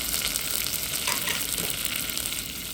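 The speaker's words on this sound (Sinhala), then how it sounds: "ඒත් එක්කම මම එකතු කර ගන්නවා මම අරගෙන තියෙන නූඩල්ස් ටික" Vermicelli noodles fry in butter in a pan, a loud, dense, even sizzle close by with light crackling throughout.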